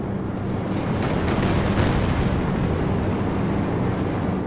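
Rumbling rocket artillery barrage from a Calliope launcher in Company of Heroes 2, a dense, continuous roar of overlapping blasts and crackling impacts at steady loudness throughout, with no voices.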